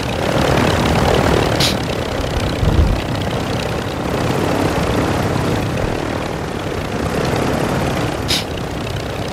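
A steady, loud rotor and engine drone from a helicopter in Call of Duty: Modern Warfare II, continuous and close with no talking.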